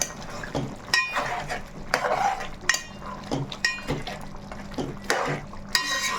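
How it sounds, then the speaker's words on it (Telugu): A spoon stirs fresh coriander and garam masala through a chicken gravy curry in a pot, giving a series of close metallic clinks and scrapes against the vessel with soft wet sloshing between strokes. "ఇంకొంచెం కొత్తిమీర ఒకసారి కలుపుకుందాం"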